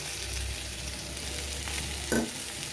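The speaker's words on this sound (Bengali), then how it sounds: "এবারে এই সমস্ত উপকরণগুলো দিয়ে আমি নেড়ে চেড়ে নেবো ঢাকা দিয়ে" Ivy gourd and potato pieces with salt, turmeric, chili powder and sugar sizzle quietly in a pan as they are stirred, with one louder scrape near the end.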